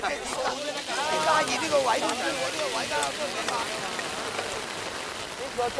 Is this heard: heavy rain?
yes